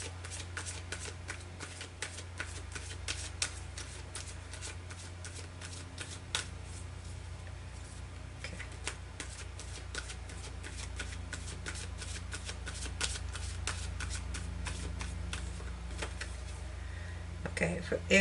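Angel and archangel oracle cards being shuffled by hand, a steady, soft, continuous riffle of card edges lasting the whole stretch at close range.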